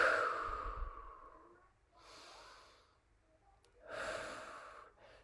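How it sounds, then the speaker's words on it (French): Slow, deep breaths taken close up in a quiet room during a calming tapping session, with three separate airy inhales and exhales spaced a second or so apart. "on va respirer profondément."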